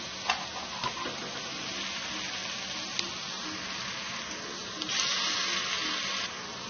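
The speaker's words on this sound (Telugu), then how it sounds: "ఇప్పుడు దీనంతా చక్క వేయించుకోవాలి" Eggs and fried rice sizzle steadily in a hot pan during stir-frying, a continuous frying hiss with a few sharp clicks of a utensil against the pan and no talking.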